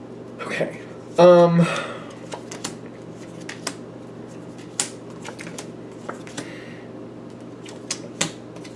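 Tarot cards are shuffled in a brisk riffle up close, followed by scattered soft taps and card snaps over a steady background hum.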